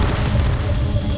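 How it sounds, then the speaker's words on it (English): Distant gunfire and heavy booms rumble continuously within an audio drama battle scene near a facility, a dense low roar with scattered shots and explosions, no talk. "The sound of heavy engines, battle cries, and gunfire are faintly heard."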